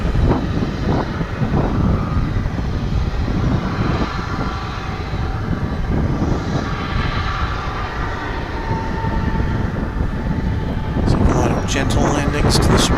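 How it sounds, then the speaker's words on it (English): American Airlines Airbus A319 jet on landing approach, arriving from Bentonville, Arkansas, into DFW International Airport; a steady broadband engine roar runs throughout with outdoor wind noise, and people talk over it. "This will be American Airlines Flight 383 coming in from Bentonville, Arkansas, aboard an Airbus A319."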